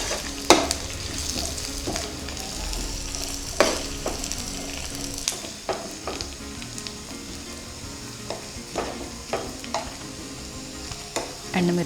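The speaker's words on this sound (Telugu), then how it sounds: "ఇప్పుడు ఇందులో ఒక 5 ఎండుమిర్చిని యాడ్ చేసుకొని ఫ్రై చేద్దాం" Five dry red chillies frying in oil for an onion chutney, a continuous close sizzle broken by repeated sharp spatula scrapes and clatters against the pan at an irregular pace.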